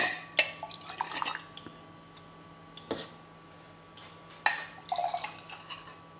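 Spiced mulled wine poured into a cup: brief trickling splashes and a few drips close by, short bursts separated by quiet pauses, with light clinks in between.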